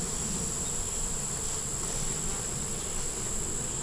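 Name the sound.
honey bees buzzing at an open hive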